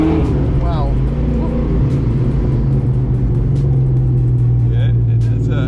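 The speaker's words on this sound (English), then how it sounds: "It has some good power. It's actually slower than the stroker motor, but it's dependable now" Inside a Ford Fox-body Mustang convertible on the road, the engine rumbles steadily and fairly loudly with deep low drone throughout, while people talk over it.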